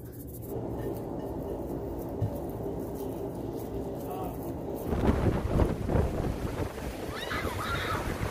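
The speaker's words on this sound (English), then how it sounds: "It's so windy." Wind buffets the microphone in a steady low rumble that grows stronger and gustier halfway through, with faint voices underneath.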